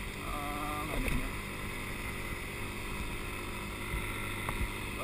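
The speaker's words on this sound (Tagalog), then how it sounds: "Parang naaawa ako sa motor mo dyan, ah." A motorcycle engine labors uphill on a steep road, a steady droning hum under wind noise with a couple of brief louder bumps.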